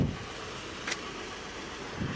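A 2003 Toyota Alphard's engine runs steadily at idle, a low, even hum with one brief faint click partway through.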